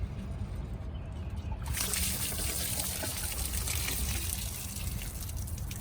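Water drains from the filter housing of a high pressure water jetting unit. It starts as a faint trickle, then becomes a steady, close splashing flow that keeps running to the end.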